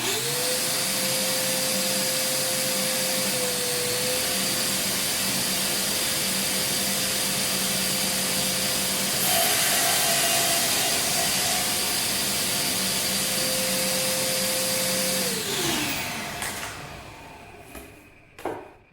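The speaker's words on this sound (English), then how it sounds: "I'm going to turn on the air cleaner, and we'll get her cut." A workshop air cleaner runs during CNC cutting, a loud continuous drone with a steady whine that holds for about fifteen seconds, then winds down as the pitch falls.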